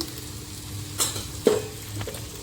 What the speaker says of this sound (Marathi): हे चांगल्या प्रकारे आपल्याला तेलामध्ये फिरवून घ्यायचे आहे